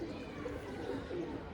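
Pigeons, a pair of old-generation breed birds, give soft low cooing calls that roll continuously at close range, quiet, with a faint murmur underneath.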